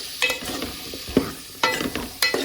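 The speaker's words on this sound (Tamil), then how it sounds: "இதை போட்டுட்டு அப்படியே ஒரு நிமிஷம் நல்லா வதக்கி விடுங்க." Brinjal and masala sauté in a pan for a dry fish kulambu, giving a close sizzle broken by repeated scraping stirs of a spoon in an uneven rhythm, with no talking.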